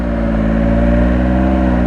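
A 2018 Triumph Speed Triple RS motorcycle engine runs loud and close, a dense harmonic drone holding fairly steady with slight rises in pitch, suggesting a gentle rev without speech.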